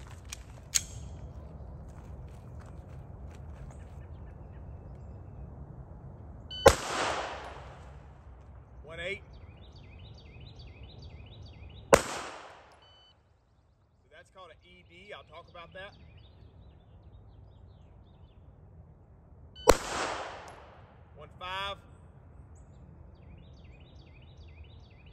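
Rifle shots during shooting practice aimed at fixing low left and right hits: three sharp, loud reports spaced several seconds apart, each with a short ringing decay, with someone talking quietly between them.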